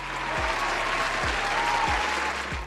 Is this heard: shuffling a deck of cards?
no